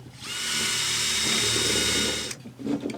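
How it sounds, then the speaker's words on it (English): A power drill bores out melted plastic on a vintage TOMY walking karate robot toy, a loud, steady high whine running for about two seconds before stopping, followed by a few small clicks and handling noises. "Okay, I guess I gotta try to drill it out."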